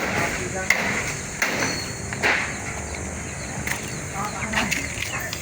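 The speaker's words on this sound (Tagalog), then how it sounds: "Yun ang martilyo." Hammer blows strike during a roof replacement, a few sharp scattered knocks under ongoing people talking and outdoor background noise.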